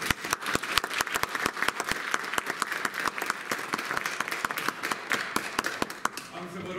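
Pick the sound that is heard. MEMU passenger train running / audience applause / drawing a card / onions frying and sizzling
audience applause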